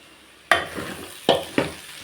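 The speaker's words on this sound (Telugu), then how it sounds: "ఆలూ ఫ్రై చేస్తున్నాను." Aloo fry, potatoes cooking in a pan for lunch at home, with three sharp stirring scrapes and clatters over a soft, steady background sizzle.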